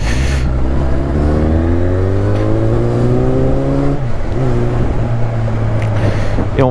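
A motorcycle rides at about 36 km/h with the helmet visor open, its engine droning steadily and rising in pitch as it accelerates, under constant loud wind rush.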